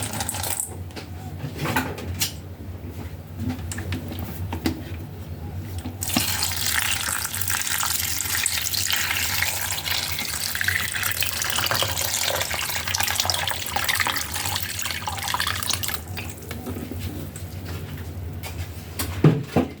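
Chinese herbal soup herbs are washed in a sink under running tap water, a steady close stream with splashing that carries on for about twenty seconds without talk.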